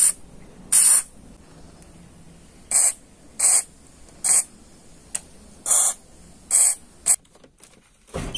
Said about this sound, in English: I'm going to let this soak for a while with WD-40.